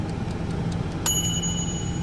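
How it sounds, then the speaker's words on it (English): An air fryer timer rings once with a bright metallic ding that lingers briefly, over a steady low engine-like rumble inside a semi truck cab. "Here, there's the bell."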